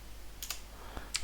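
A few sharp, quiet clicks of typing on a computer keyboard at a server terminal, spaced irregularly and set against a faint steady hum.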